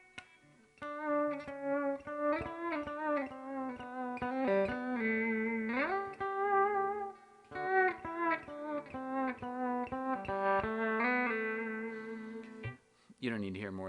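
Frye Model One electric guitar played with volume swells, sustained notes and chords fading in and out with effects coloring the tone, clean and close, with a short burst of strumming at the end.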